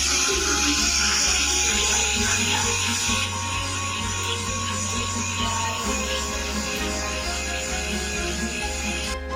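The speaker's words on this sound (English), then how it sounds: "then there are large motors that move the rack and pinions gear down, so that one medium motor will grind the soil ground" A medium electric motor on a small seed-planter robot runs steadily, grinding soil with a continuous buzzing drone that holds close and loud throughout, its pitch shifting slightly partway as the load changes.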